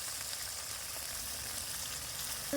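A Bengali masala of onion paste, whole garlic, chopped tomato and red chilli powder with a splash of water frying in a pan, a soft, even, continuous sizzle heard quietly and alone.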